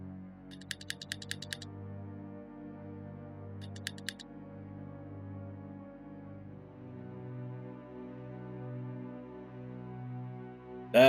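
Clicking from a game controller's buttons comes in two short bursts of rapid clicks over steady game music and sound, with a louder burst at the very end.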